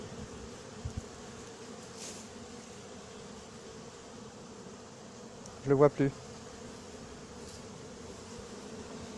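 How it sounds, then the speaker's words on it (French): Many bees swarm around a hive in summer, making a faint, steady buzzing drone throughout, briefly interrupted by a short burst of a nearby voice. "Donc là, il y a des abeilles partout."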